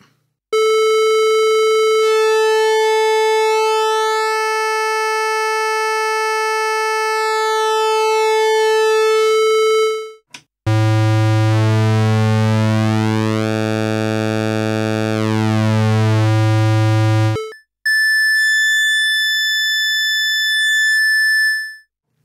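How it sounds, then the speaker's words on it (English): An ARP Odyssey analog synthesizer pulse-wave oscillator plays a loud, steady tone with a buzzy harmonic timbre, shifting in pitch across three sustained segments and thinning to a narrow, nasal sound at minimum pulse width. "when you go up to the top where it's marked minimum, that's minimum pulse width. So let's hear that."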